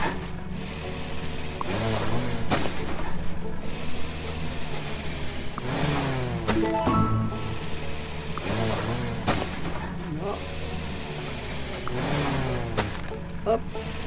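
A tractor engine in the Far Together video game hums steadily at mid pitch, with repeated swells of revving throughout, while a person talks over it.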